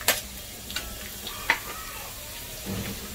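Light golden fried onion tipped back into a hot kadhai for paneer chana masala, giving a soft sizzle with a few sharp clinks and stirring taps near the start, then a low steady frying hiss.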